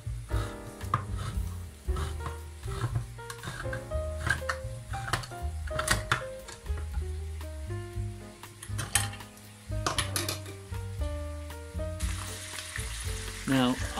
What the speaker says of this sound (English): Keep an eye on the spaghetti whilst you stir in the mince in the other pan.